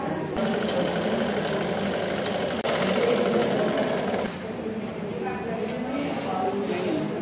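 A sewing machine stitches a saree petticoat with a fast, steady whirring rattle that stops about two-thirds through, while someone talks over it.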